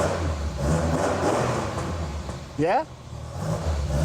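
A Ford Escort Mexico's engine revs in a short, sharp rising blip over a steady idle, close by with people talking.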